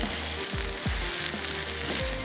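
Carrots sizzle in a hot pan with a steady close frying hiss, broken by a few sharp scraping or clinking strokes, and no voices.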